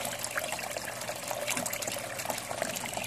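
Water pouring and splashing steadily back into a fish tank in a hillside farm aquaponics system, a continuous close trickle and gush with no talk.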